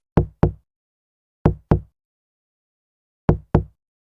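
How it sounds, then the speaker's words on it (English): Knocks on the rear window of a car, three pairs of sharp raps with long silent gaps between them, close and clear with no talk. "someone knocked on the rear window."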